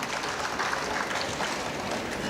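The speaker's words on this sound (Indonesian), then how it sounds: "Kita tepuk tangan dulu untuk mereka semuanya" Audience applause at Festival Aksara Lontaraq IV 2023, a literacy and culture festival, honoring activists: a steady, dense wash of clapping that holds at even loudness throughout.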